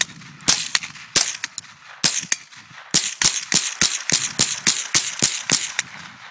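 A .22 rifle fires Winchester rounds outdoors in a rapid string of sharp, loud cracks, about twenty shots in quick uneven succession, some spaced and some tightly grouped.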